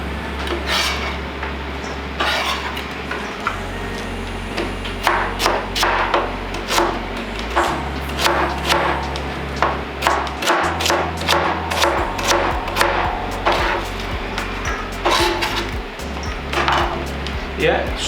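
A knife repeatedly chops purple cabbage into small pieces for kimchi, giving a steady run of sharp, close taps on a board over a constant low hum.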